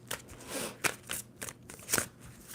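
Tarot cards riffle-shuffled by hand in a few quick bursts, crisp papery flutters and soft taps close up, with a quiet room hum beneath.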